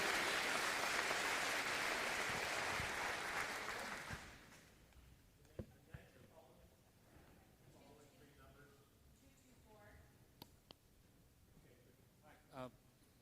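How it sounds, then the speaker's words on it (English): At a senator's town hall meeting in Newport, Oregon, the crowd gives a round of applause that rings loud for about four seconds, then fades out and gives way to quieter talk in the room. "Let's give them a round of applause"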